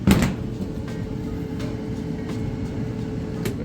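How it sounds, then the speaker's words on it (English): A Kenmore electric dryer drum tumbles steadily, making a continuous low rumbling hum with faint periodic clunks, moderately loud and close. "it's tumbling nice and fast, just like it's supposed to"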